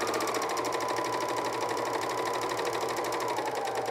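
A cover stitch machine sews a camisole in a steady, fast, even buzz of rapid stitching that runs close and unbroken throughout, with no voices.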